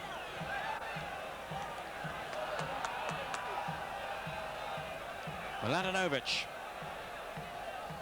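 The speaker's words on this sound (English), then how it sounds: "The home crowd urging their team forward." A home football crowd at a 1991 Dinamo Zagreb versus Red Star Belgrade match roars and chants in a steady rhythmic swell, with a commentator talking over the noise.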